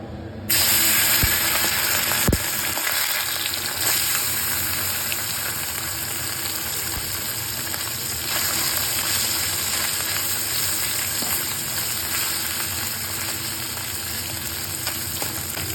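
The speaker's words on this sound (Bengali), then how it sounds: "আমি মাছগুলো একে একে করে ছেড়ে এখন ভেজে নেব।" Fish fry in hot oil in a wok, producing a loud, dense, continuous sizzle that starts abruptly and holds steady throughout, with occasional pops and crackles and no talking.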